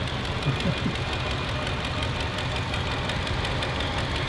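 A 1963 Derbyshire tractor used for haymaking and saw bench work runs at a steam and country show, its engine chugging steadily with a knocking beat amid outdoor show noise.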